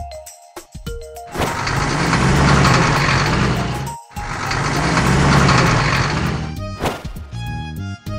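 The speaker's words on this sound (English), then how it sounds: "Fire truck." A cartoon fire truck engine roars in two long, loud revving bursts separated by a brief gap, with light tonal music before and after.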